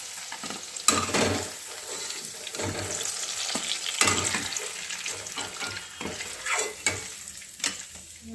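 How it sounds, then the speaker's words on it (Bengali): Bubbling sizzle of milk gokul pithe dumplings deep-frying in oil, broken by several sharp scrapes and clinks of a spoon against the pan. "এরকম করে আমি সবগুলোকে ভেজে নিচ্ছি"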